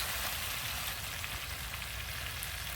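Mirror carp fish frying in a pan of cooked-down spice paste over an outdoor village cooking fire, a steady loud close-up sizzle and crackle with no pauses.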